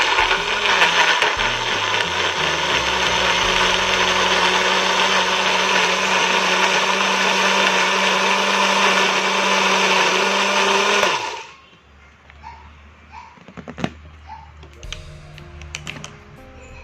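A blender grinds spices with a little water for Acehnese white-cooked beef, a loud, steady whirring roar that holds for about eleven seconds and then cuts off abruptly, leaving quiet kitchen clatter.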